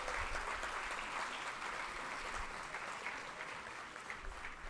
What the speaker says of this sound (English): Let's give a big round of applause for all the qualifiers.